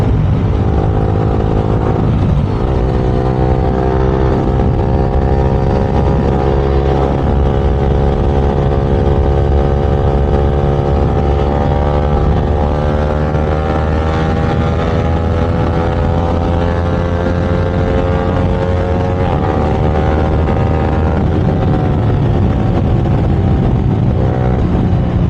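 Motorcycles in a street drag race, including an R15 V4, MT15, GT650 and Ninja 650, with a loud continuous engine drone that holds steady and rises in pitch for the whole stretch, close and without talk.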